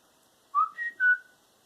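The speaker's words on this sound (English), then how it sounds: "He whistles a tune to the window" A person whistles a short tune of three clear notes, close and alone against silence.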